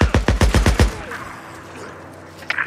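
A rapid burst of about seven loud gunshots in quick succession in the video game Days Gone, followed by a faint echoing tail and a softer crack near the end.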